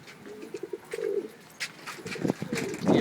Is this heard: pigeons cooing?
yes